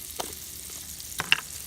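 Steak frying in butter and olive oil in a hot cast iron pan, a soft steady sizzle with a few brief crackling spits, faint and close.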